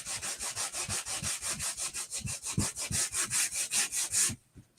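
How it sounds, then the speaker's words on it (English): Steady back-and-forth sanding of a wooden block, about twenty rhythmic rasping strokes close up, stopping abruptly near the end with no talk. "Okay, so we're done sanding."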